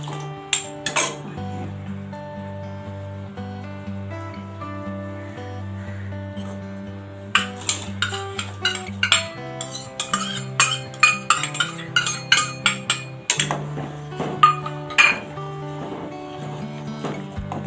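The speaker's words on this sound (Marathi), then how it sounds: "आता हे जे भिजलेले साबुदाणे आहेत ते मी यामध्ये घालते" Soaked sago pearls go into a pot for a sweet kheer, heard as clinking of a metal spoon and utensils against the pot, with a run of sharp taps growing denser toward the end over a faint background hum.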